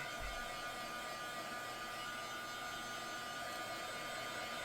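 A hair dryer dries layers on a mixed media greeting card, blowing as a steady, loud broadband whoosh with a faint hum that holds unchanged throughout, with no talking.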